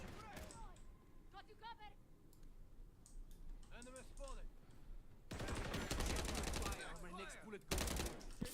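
Gunfire in the Modern Warfare 3 beta, a first-person shooter: scattered rapid bursts of shots ring out, then grow denser and louder toward the end, with voices talking and some clicking mixed in.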